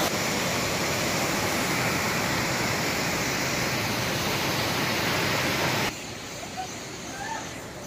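Langvoku waterfall in Karbi Anglong roars as a dense, steady broadband rush, loud and close, then drops abruptly to a quieter, more distant wash near the end.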